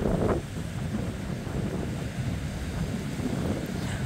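Strong wind blows on a rainy Sunday beach at Saquarema, a steady roaring rush buffeting the microphone with surf noise mixed in, loud and continuous with no talk.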